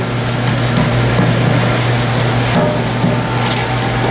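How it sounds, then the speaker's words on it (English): Steady, loud scrubbing of the flat metal surfaces of a VooDoo BBQ fryer, a continuous close rubbing texture over a constant low hum, with no voices. "Once you're confident you've loosened and scrubbed all the areas of the fryer,"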